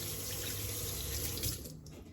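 Running tap water pours into a kitchen sink as hands are washed, a steady close splashing hiss that cuts off near the end.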